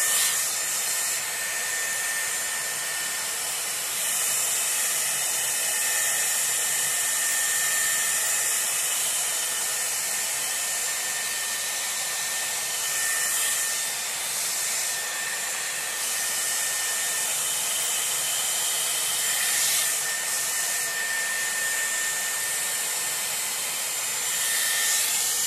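A Dyson Airwrap round brush blow-dries hair with a constant loud airflow roar that runs unbroken and alone, its tone shifting slightly at a few points as the brush moves.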